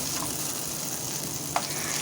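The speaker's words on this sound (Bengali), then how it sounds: "খুব সুন্দর একটা ব্রাউন কালারের মতো ভাজবো" Pointed gourd pakoras fry steadily in hot oil until brown, giving a continuous soft sizzle with one brief sharp pop near the end and no voices.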